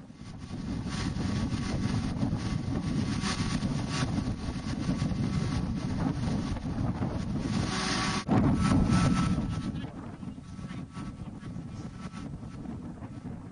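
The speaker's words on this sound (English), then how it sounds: "Sound you hear is the wind." Strong wind buffeting a microphone outdoors at a totem pole installation, a loud, steady rushing roar with gusts that peak near the end before easing slightly.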